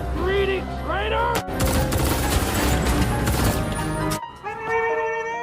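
A burst of rapid gunfire fills a tense film scene where a treacherous kidnapper shoots a driver, dense cracking shots rattling loudly between stretches of voices and tonal sounds.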